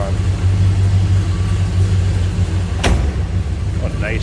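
A 1969 Dodge Coronet R/T two-door hardtop with a 440 V8, stock exhaust and mild cam, idling loud and close with a steady low rumble, a brief sharp click partway through.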